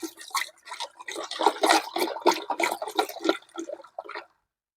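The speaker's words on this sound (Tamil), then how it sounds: "இப்போ ஒரு குச்சியை எடுத்து அந்த தண்ணியை வந்து நல்லா வந்து பார்த்தோம்னா கலக்கி விடணும்" A stick swirls water round and round in a container while mixing a microbial liquid for reviving withered plants, giving a steady run of close splashing, sloshing strokes that stop abruptly.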